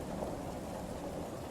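Steady rain with rolling thunder fills the space as an even, continuous wash, loud and close, with no voices over it.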